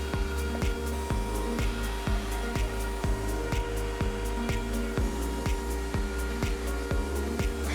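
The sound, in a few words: CNC router fly cutting an MDF spoilboard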